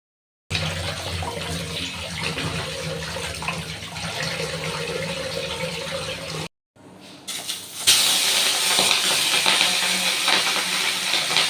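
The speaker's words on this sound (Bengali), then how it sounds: "এখন ঝটপট করে মাছগুলো ধুয়ে নেব।" Fish are rinsed under running water in a kitchen, a steady near splashing hiss that cuts out briefly and then returns more strongly.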